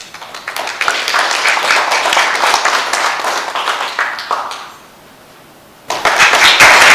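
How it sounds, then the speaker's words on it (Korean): Audience applause welcoming a former ambassador onto a lecture stage, a dense, steady wash of many hands clapping that fades out briefly near the end before bursting back in at full strength. "박수로 대사님을 환영해 주십시오."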